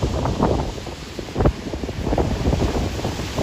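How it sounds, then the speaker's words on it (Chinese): Strong gusty wind at the Taitung seaside, driven by a typhoon's outer circulation, roars across the microphone as a loud rushing blast that swells and eases in gusts. "强烈的阵风为台东的海边带来长浪"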